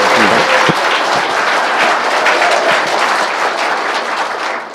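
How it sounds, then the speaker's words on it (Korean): A large audience at a political talk event in Daegu applauds, a loud, dense, sustained burst of clapping from many hands that tapers slightly near the end. "황장수 소장님께 다시 한번 박수 부탁드리겠습니다"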